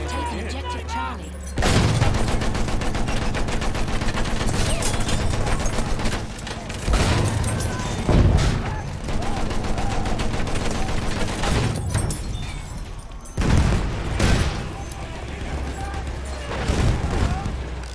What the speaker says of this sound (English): A lot of mortar.